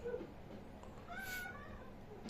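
A cat meows once, a short mid-pitched call rising then falling, fairly close in an otherwise quiet room with faint background noise.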